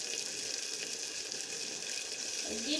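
Khichdi with ghee just added sizzles steadily in a pot, a dense, even hiss held throughout at close range, with a faint scrape as it is stirred near the end.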